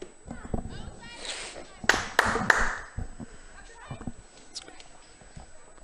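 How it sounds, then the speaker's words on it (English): A broadcaster claps at a girls' lacrosse game after a Bedford Bulldogs goal, with a few sharp, close hand claps cutting through ongoing commentary and faint crowd noise. "Sorry for the clapping there."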